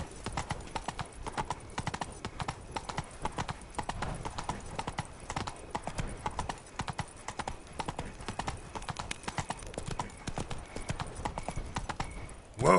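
Roach the horse in The Witcher 3 trots with steady, close clip-clop hoofbeats that run evenly throughout, with a brief louder burst at the very end.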